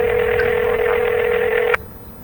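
A steady electronic telephone tone from a phone booth in the horror game Exit 19, loud and close, holding for nearly two seconds before cutting off abruptly into low background noise.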